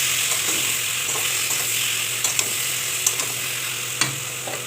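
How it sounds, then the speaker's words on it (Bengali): Spice-marinated mutton frying and being stirred in a hot pan for a mutton head curry, a steady close sizzle with a few sharp clicks and scrapes of a utensil, no talking. "এবার মাংসগুলো ঢেলে দেবো"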